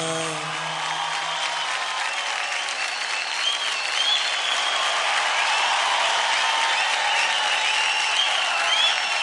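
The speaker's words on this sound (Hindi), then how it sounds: "जोरदार ताली हो जाए हार्दिक और निधि के लिए।" Sustained audience applause fills the studio after a dance performance on a Zee TV dance show, a dense, steady roar of clapping that runs loud and even from start to finish without any voices on top.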